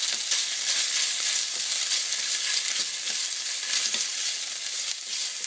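Tomato paste sizzles in hot oil as it is stirred into a sofrito for Dominican-style stewed meatballs, a steady, bright frying hiss with faint scrapes of a spoon, close and continuous.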